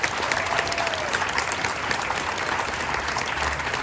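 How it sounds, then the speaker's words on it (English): A crowd gathered outdoors at a Ride of Silence for Black Lives rally claps for supporters, a dense, steady wash of many hands applauding continuously, with faint background voices. "I want you all to clap your hands for all of those people that have supported us."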